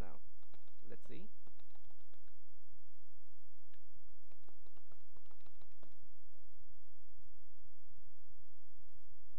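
Computer keyboard keys are tapped in quick bursts while entering login credentials, close clicks clustered at the start and again in the middle, separated by quieter gaps.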